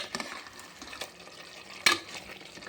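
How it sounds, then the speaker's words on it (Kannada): Mutton chops frying in oil with raw masala in a pan, stirred with a utensil: a soft, steady sizzle under light scraping, then one sharp metallic clank near the end. "ಒಲೆ ಮೇಲೆ ಮಟನ್ನು ಸುಂಡಾಕಿಟ್ಟಿದ್ನಲ್ಲ, ಅದು ಸುಣ್ತಾ ಇದೆ ಚೆನ್ನಾಗಿ"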